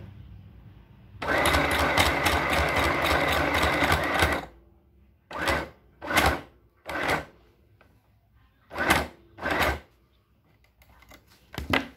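A sewing machine stitches around a shirt armhole, first in one long continuous whirring run, then in several short separate bursts with pauses between them, close and loud.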